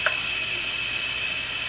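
Steady broadband hiss of steam venting from a pressure cooker in a home kitchen, continuous and fairly loud throughout with no break, a faint brief tone near the start.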